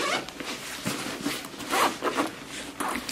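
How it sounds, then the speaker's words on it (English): The zipper on a Caden camera backpack is pulled open in several quick, close, raspy strokes, with short pauses between pulls and no talking. "So it zips all the way down."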